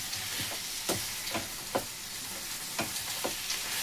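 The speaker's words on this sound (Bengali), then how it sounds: "একটা দুটো আলু একটু এইভাবে খুন্তি দিয়ে স্প্যাচুলা দিয়ে একটুখানি ম্যাশ করে দিতে হবে" Potatoes being mashed with a spatula in a frying pan with onion and tomato for aloo dum, soft sizzling under a series of irregular scraping, pressing strokes against the pan, close up, no talking.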